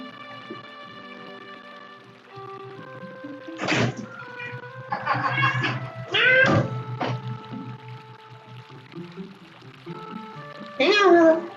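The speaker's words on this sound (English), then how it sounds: "Willow's meowing at me" A pet cat named Willow meows repeatedly indoors, several distinct calls spread across the stretch, close by, with a steady low hum underneath.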